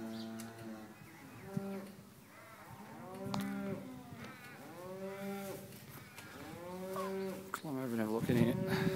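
Dairy cows on a milking farm moo repeatedly, several long, drawn-out calls overlapping at close to moderate distance, with faint background clatter and a louder, busier call toward the end.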